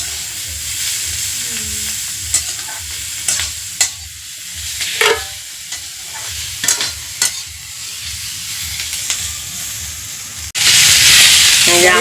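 Onion, garlic and chili fry in a pan at an outdoor winter picnic, a close, steady sizzle with scattered stirring scrapes, ending in a sudden loud burst of hissing.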